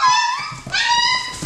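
Shepadoodle puppies whimper and yip close by in high, thin, wavering cries, two quick bursts of plaintive whining with no voices.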